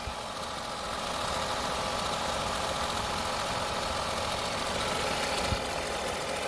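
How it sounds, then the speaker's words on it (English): Steady, even idle of a Seat Ibiza 1.2 TSI engine running on its own, with fault code 01117 after alternator and battery replacement, a constant close mechanical drone with a faint rattle and one small click near the end. "Okay, engine is running."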